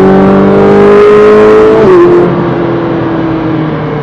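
A car accelerates hard out of a corner on the Brands Hatch Indy circuit in wet-to-drying conditions, its engine note loud and close, rising steadily, then dipping briefly at a gear change before pulling on.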